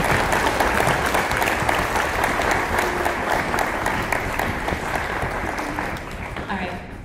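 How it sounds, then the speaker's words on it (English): A school choir concert audience applauds, many hands clapping in a thick continuous wash that fades slightly toward the end, with some crowd noise mixed in. "All right, give him a round of applause."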